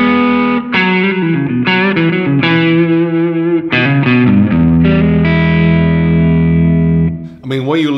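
Electric guitar played through a Decibelics Reverend XX pedal in its compressed clipping mode, a series of distorted chords and riffs that ring and sustain with heavy, squashed saturation, loud and continuous before trailing off at the end.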